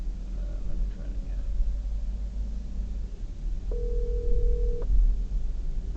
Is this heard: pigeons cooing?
no